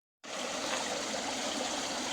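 Steady bubbling hiss from a homemade air diffuser pushing micro bubbles into a koi pond, a continuous close, even wash of aerated water with no voices.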